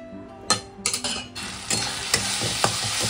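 Spice masala sautéing in a pan, a bright close sizzle with several quick scraping stirs of a spoon clustered early, then a few spaced scrapes over the continuing hiss.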